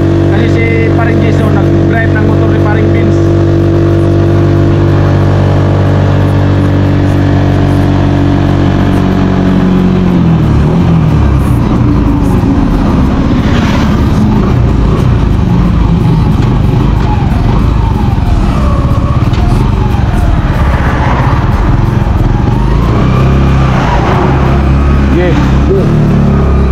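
Motorcycle engine droning steadily while riding, first a smooth idle-like hum, then a rougher rushing roar with wind noise, with people talking over it throughout.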